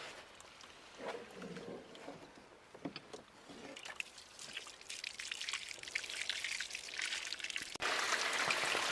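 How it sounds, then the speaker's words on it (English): Water pours and trickles steadily through a sluice box as the last of the gold-bearing dirt from a Montana dig is washed, a continuous splashing rush that grows louder and denser toward the end, no voices. "Sluice box feeder, we're just running the last of the dirt here."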